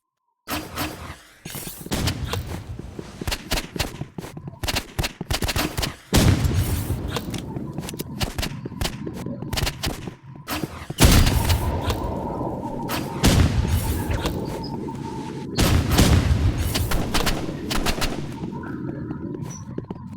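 RPG rocket launcher blasts and rapid gunfire in a squad shooter video game, with bursts of automatic fire, heavy booms and thuds coming in dense, loud clusters across the whole stretch.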